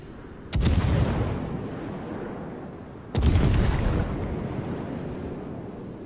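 Two heavy booming salvos from the battleship Richelieu's main guns in World of Warships, each a sharp blast followed by a long rumbling decay, spaced a few seconds apart.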